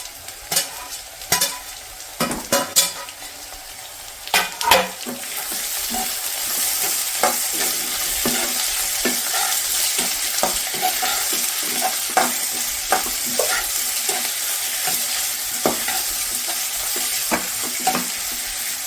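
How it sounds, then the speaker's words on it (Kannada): Crushed garlic, four cloves, frying in a pan with green chillies, a steady close sizzle broken by clinking stirs, with louder scraping strokes early on and frying hiss building and holding throughout. "ಬೆಳ್ಳುಳ್ಳಿ 4 ಇಲ್ಕ್ ತಗೊಂಡು ಈ ಥರ ಜಜ್ಜಿ ಇಟ್ಕೊಂಡು ಹಾಕೊತಾ ಇದ್ದೀನಿ"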